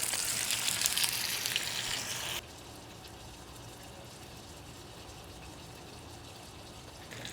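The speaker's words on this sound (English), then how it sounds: "Put our steaks in, get them cooking." Steaks laid on a hot grill give off a loud hiss and crackle at first, then drop to a steady, quieter sizzle that continues without talk.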